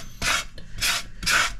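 Sandpaper-faced scrubbing tool rasping dirt off a surface in three loud, even strokes, each a harsh broadband scrape of about a quarter second, close up with no talking.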